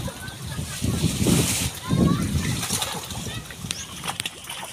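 Rough sea waves from a strong monsoon brought by Typhoon Carina splash and slosh against something nearby in bursts, with a steady wash of water and wind between the surges.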